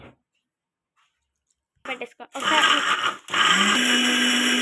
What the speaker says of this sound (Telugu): వేసుకున్నాక మిక్సీ జార్లో మిక్సీ పెట్టేసుకుందాం.